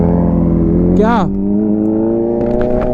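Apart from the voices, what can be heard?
motorcycle with stock exhaust revving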